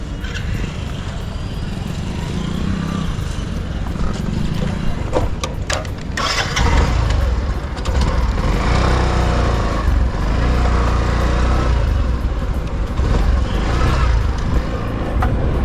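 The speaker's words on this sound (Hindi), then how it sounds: "इसको दौड़ाते हैं बाइक को." A motorbike engine kicks into life partway through after some quieter handling sounds, then keeps running with a steady, close, throaty drone to the end.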